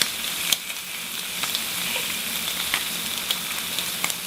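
Shrimp sizzle steadily in a hot pan as they are flipped, a dense hiss with scattered spits and light taps of the utensil, close and continuous with no talk.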